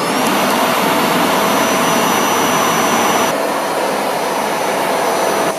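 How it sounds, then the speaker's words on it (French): A loud, steady vacuum cleaner motor whirs continuously at close range, with a high whine and broad airy rush and no pauses. "L'aspirateur, il avait oublié d'éteindre."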